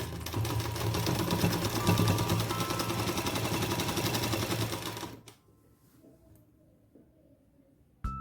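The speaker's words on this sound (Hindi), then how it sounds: "इसको इस तरह से मिलाते हुए किनारी पे से और" A sewing machine stitches a petticoat seam in a fast, even, rattling run for about five seconds at close range, then stops, leaving a near-silent pause broken only by a final click.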